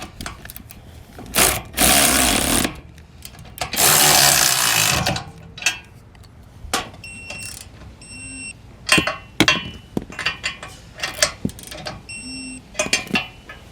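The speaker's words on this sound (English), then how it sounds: "Now we'll take a 19mm socket and we'll tighten and torque our hardware." 19mm socket on a ratchet tightening the hardware of a Brophy rigid mount spare tire carrier, heard as bursts of rapid ratchet clicking, then scattered metallic clinks and handling noises, close by.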